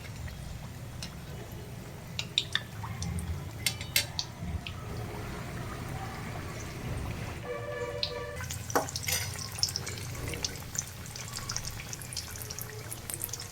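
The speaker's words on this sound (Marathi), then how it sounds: "आता हे दोन्ही साईडने चांगलं आपल्याला तळून घ्यायचे आहेत" Batata vada deep-frying in hot oil, a steady low bubbling sizzle with scattered crackles and drip-like pops, fairly close and continuous throughout.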